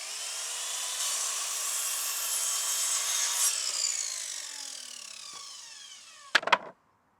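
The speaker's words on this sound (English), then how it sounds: "A simple jig makes cutting the 1 meter lengths quick." Larch decking boards being sawn to one-metre lengths on a simple jig, a steady close rasping stroke that runs for several seconds, trails off, then ends in a few sharp knocks of wood.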